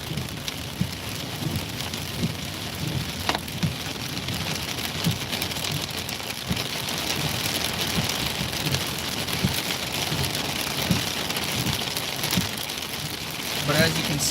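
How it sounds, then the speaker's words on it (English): Heavy rain pours steadily through a storm in Minnesota, a dense continuous hiss with scattered sharper drops and faint distant rumbles, loud and constant throughout. "I don't even know if you guys can hear me, but the rain is super loud."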